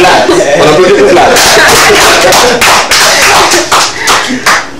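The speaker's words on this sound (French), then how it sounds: "On applaudit pour Vlad." A group claps hands in rhythmic bursts on a Togolese TV2 show, loud and close, with a dense patter building and carrying on throughout.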